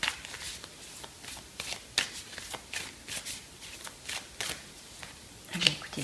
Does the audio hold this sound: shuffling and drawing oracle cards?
yes